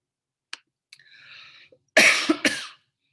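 A few small clicks and a soft breathy hum, then two loud, close coughs in quick succession.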